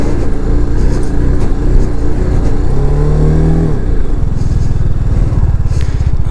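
A motorcycle riding off road on a sandy track near Sarchu in Ladakh, its engine droning loud and close with rising and falling revs as it labours through the sand, wind rumble throughout and no talking.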